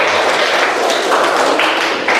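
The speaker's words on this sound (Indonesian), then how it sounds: "Tepuk tangan dulu semuanya." Classroom of students clapping together, a dense continuous patter of many hands nearby, loud and sustained for the whole stretch.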